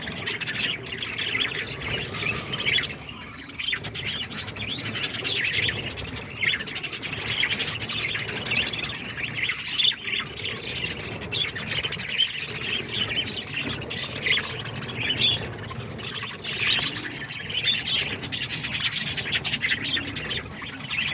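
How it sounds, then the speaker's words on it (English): A flock of budgies squawks and chirps nonstop while eating at a bird feeder, a dense, shrill chatter of many birds at once, steady and fairly loud throughout. "So yeah, that's all the budgies. They go crazy when they're eating"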